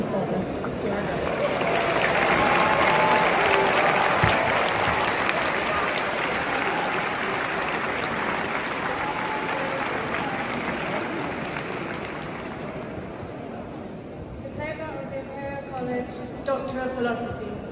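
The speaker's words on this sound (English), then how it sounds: "Please join me in a round of applause to our guests." A large audience applauds during a university graduation ceremony at the Royal Albert Hall in London, sustained and loud, sounding roomy in the big hall before fading toward the end as a voice begins to speak.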